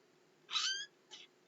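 A cat meows once, a fairly clear mid-length call, then gives a shorter, softer chirp-like meow a moment later. Otherwise quiet.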